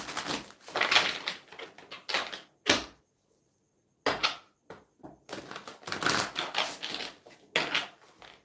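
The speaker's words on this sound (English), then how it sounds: "I'm going to start shuffling the oracle cards." Oracle cards shuffled close up in quick riffling bursts, several rounds separated by brief pauses of near silence.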